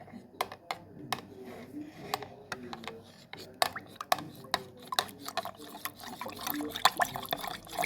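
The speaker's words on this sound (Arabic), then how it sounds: "فبحطها ميه ساقعه متلجه" Iced cold water is poured on a balcony in hot weather, with liquid splashing and filling mixed with frequent sharp clinks and ticks, close and fairly quiet throughout.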